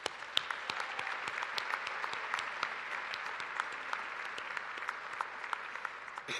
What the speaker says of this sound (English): a round of applause, please, for those who have worked with you for your success